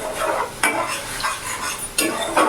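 Spoon scraping and stirring spice paste in a hot pan for potato curry (aloo dum), with light sizzling of oil and sharp metallic clinks against the pan at irregular intervals.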